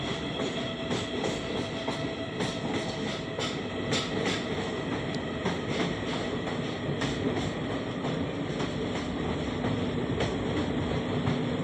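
Train running through the Dima Hasao hills near a long tunnel on the way to Haflong, a steady loud rolling rumble with repeated wheel clicks and rattles throughout.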